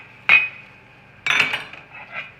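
A metal frittata pan and lid clink twice in quick succession during a flip, the first a sharp ringing clang and the second a longer rattling clatter, close and fairly loud, followed by a softer scrape.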